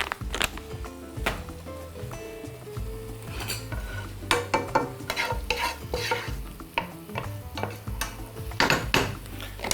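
Onion frying in a pan is stirred with a utensil, giving a steady close sizzle broken by repeated scraping and clinking strokes against the pan.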